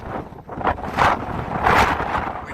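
Wind gusting past a desert ridge at the Northern Bowl of Fire near Lake Mead, Nevada, buffeting the microphone in rough, swelling bursts with no talk.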